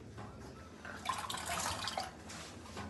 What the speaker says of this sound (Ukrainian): В каструлю наливаємо холодну воду